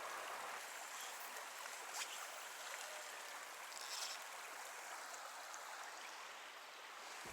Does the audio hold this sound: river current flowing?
yes